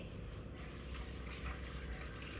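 Tap water runs steadily while raw chicken is rinsed in a sink, a faint, continuous splashing and trickling with no voices.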